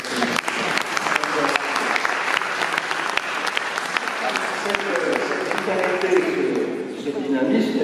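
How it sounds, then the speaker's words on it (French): An audience at a mayor's opening address in a hall applauds steadily, a dense, loud patter of many hands clapping throughout, with a voice talking over it toward the end. "Vous pouvez applaudir à ce moment-là."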